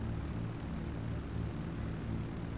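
An airplane in the video game GTA V drones steadily in flight, with a low, continuous propeller-engine hum and rumble that holds a constant pitch throughout, with no talking.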